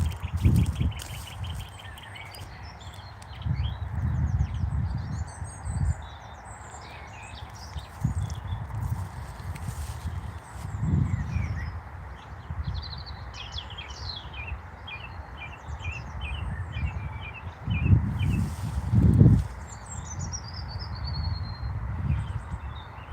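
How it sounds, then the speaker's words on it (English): A song thrush sings in repeated bright phrases from a tree outdoors, moderately distant, over low rumbling thuds and steady background noise. "Song thrush has started singing again."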